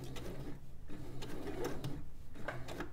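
A sewing machine stitching a fabric crossbody bag, its needle running in a steady, fast mechanical chatter up close with brief pauses and restarts, no voices over it.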